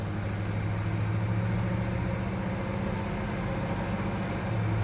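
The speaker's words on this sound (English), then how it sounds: "That's a good sounding muscle car." A 1967 Pontiac GTO muscle car, a turn-key restoration, runs with a steady, deep low rumble and a constant close engine drone throughout, with no talk.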